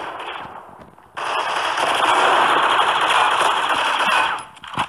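Sustained loud gunfire in a multiplayer shooter game: a long, dense, continuous roar of shots lasting several seconds after a quieter lead-in, with a sharp final burst.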